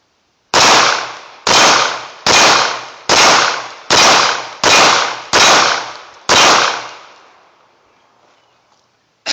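Eight sharp, loud pistol shots from a Hi-Point handgun emptying an eight-round magazine, fired at a steady rhythm about one per second, then silence.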